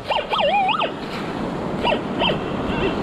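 Ocean surf crashing on a beach while someone treasure hunts, a steady loud wash of waves with wind, and whistling birdlike calls briefly rising above it.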